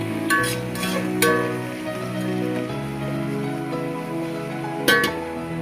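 Ingredients being stirred and fried in a pan for Kerala biryani, a steady close sizzle with scraping stir strokes and a few sharper clinks of a utensil against the pan.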